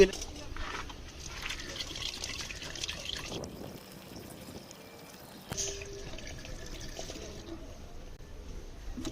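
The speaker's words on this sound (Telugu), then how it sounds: "ఇప్పుడైతే నేను టాటా కంపెనీ కూలెంట్ అయితే వేస్తున్నాను" Tata coolant is poured into the radiator of a Maruti Suzuki Swift car, a faint steady trickle and drip of liquid with a brief clunk partway through, while someone talks over it.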